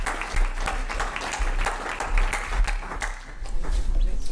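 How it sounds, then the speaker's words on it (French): A conference audience applauds at the close of a talk on banking: a crowd of hands claps steadily for several seconds, with individual sharp claps standing out and a low rumble of room noise underneath. "on les applaudit bien fort quand même."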